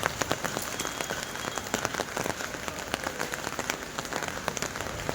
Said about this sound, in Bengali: সকাল থেকে শুরু হয়েছে বৃষ্টি